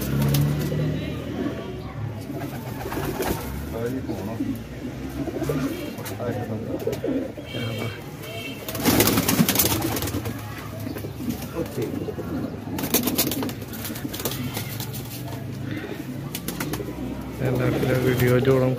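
Topi pigeons kept by a pigeon club coo repeatedly in soft, rolling phrases close by, while people talk intermittently in the background and occasional louder bursts of noise break through.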